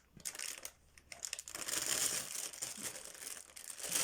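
Plastic packaging of a diamond painting pillowcase kit being torn open and crinkled, a close, continuous rustling and crackling that grows denser after the first second, with no talk.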